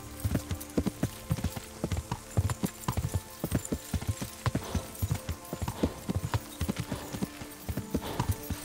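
Horse hooves in the video game Kingdom Come: Deliverance clip-clop in a steady trotting rhythm, close and distinct, continuing throughout with a faint background hum.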